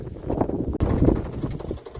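Blustery wind over a farm field buffeting the microphone, a low rumbling roar that rises and falls throughout, briefly dropping out partway.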